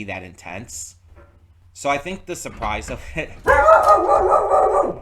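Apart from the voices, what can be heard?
dog barking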